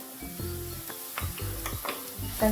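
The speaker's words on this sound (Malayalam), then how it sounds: "ചീര പൊടിയായിട്ട് അരിഞ്ഞ ചീരയാണ് കേട്ടോ. ഇത് വഴഞ്ഞുകൊണ്ടിരിക്കുകയാണ്." Finely chopped spinach sautés in a pan over low heat after the onions, giving a steady soft sizzle with light stirring scrapes and a few utensil clicks close by.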